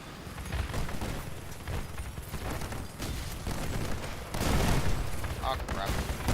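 Many guns firing at once from a big AC-1000 gunship in the Crossout vehicle combat game, a dense, steady barrage of overlapping shots that swells louder near the end, with a voice talking over it.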